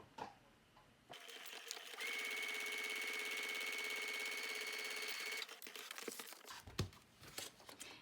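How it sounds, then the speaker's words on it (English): Sewing machine stitching straight across the edge of a laminated paper pouch, a fast steady mechanical whir running a few seconds after some crinkly handling, followed by rustling of the material. "Pull my machine over here, and I'm just going to stitch fairly close to the edge, just straight across here"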